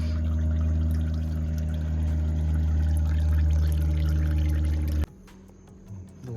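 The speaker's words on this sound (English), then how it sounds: "Water's leaking. Water, I said water, oil's leaking." Old motor oil drains from a vehicle during an oil change, a steady rushing pour with a loud low hum beneath it, which cuts off abruptly near the end, leaving quieter background noise.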